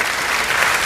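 Applause from the audience at a kavi sammelan, a Hindi-Urdu poetry recital in Moradabad, sounding as a steady, dense wash of many hands clapping through a brief moment with no voices.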